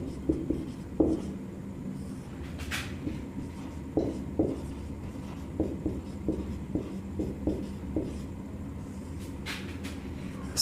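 Handwriting with a pen on paper during a lesson, with short scratchy strokes coming in irregular bursts against a low steady background hum.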